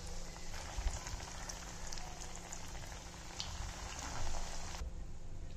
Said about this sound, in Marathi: आपलं तेल तापलंय, आता कबाब तळून घेऊया.